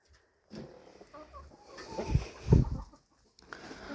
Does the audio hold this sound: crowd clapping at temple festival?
no